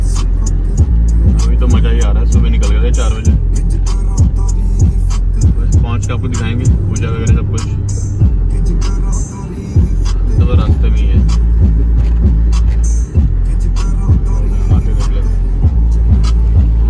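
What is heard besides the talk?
car being driven on a mountain road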